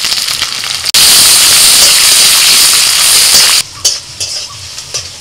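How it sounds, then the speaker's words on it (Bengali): Dried red chillies, garlic and chopped onion hit hot oil in a pan with a sudden loud, close hiss and sizzle that holds steady for several seconds, then drops to a softer crackle with scattered pops and stirring clicks. "ফোড়নে দিচ্ছি 2টো শুকনো লঙ্কা, রসুনটা একটু ভেজে নিয়ে দিয়ে দিচ্ছি পেঁয়াজ কুচি"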